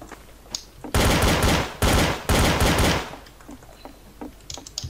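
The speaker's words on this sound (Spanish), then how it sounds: "Eso ha sido un tiro de aviso." Gunfire in the video game Garry's Mod Trouble in Terrorist Town: three loud bursts of rapid shots close together, separated by brief gaps, with quiet clicking and faint background noise between them.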